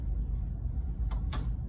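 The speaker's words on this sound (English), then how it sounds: "So he can open a door or a drawer." A guide dog tugs a drawer open, giving two quick, faint rattling knocks close together near the end over a low, steady room rumble.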